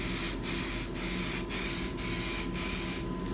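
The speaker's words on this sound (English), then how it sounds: "Here goes the last spray." Continuous close aerosol hissing of a spray can applying primer to a Jeep Grand Cherokee dashboard, in several short bursts with brief gaps between them, loud and steady, no voices.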